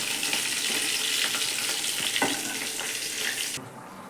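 Pointed gourd chops frying in a wok over very low heat: a steady, close sizzle with light crackles and a couple of utensil taps, fading slightly near the end.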